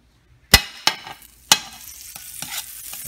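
Butter hits a very hot cast iron skillet, three sharp sizzling bursts followed by a rising, steady crackle, close and loud with no talk.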